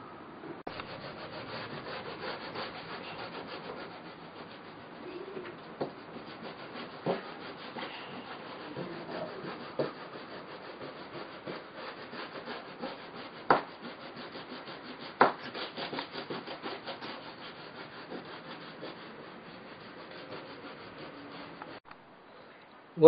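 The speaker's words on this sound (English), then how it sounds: "use the sandpaper block to thin down the wood to require thickness" A sandpaper block rubs back and forth across the thin wooden wing of an indoor glider, a soft continuous scratching with occasional sharper strokes, close and fairly quiet.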